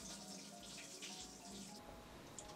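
Lentils for a mixed five-dal dish being rinsed under a running tap, a steady close splash of water that carries on without pause and has no talk over it.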